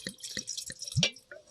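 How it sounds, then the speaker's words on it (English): Wine poured into a glass, a few quick splashy drips then a short trickling pour, close and fairly quiet with no talking. "Do we have any idea what this pour is? Of course we do. Wine."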